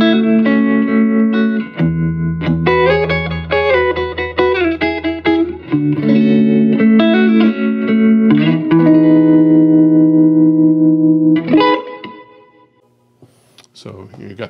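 Electric guitar on the neck pickup through a Fender '68 Custom Vibro Champ Reverb tube amp, warm and rounded, playing sustained chords and short melodic runs, drenched in reverb and echo, loud and close.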